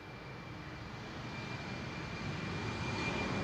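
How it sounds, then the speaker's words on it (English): An Embraer jet airliner passes at Amsterdam Schiphol Airport on a windy day, its engine roar a broad steady rumble with a faint whine that grows gradually louder. "We'll let the Embraer fly past us."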